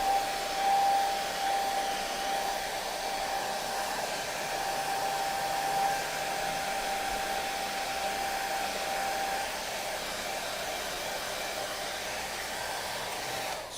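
A hair dryer blows on painted gunpla model parts, a steady, moderately loud airy whoosh with a faint motor whine that runs continuously without pauses or talk.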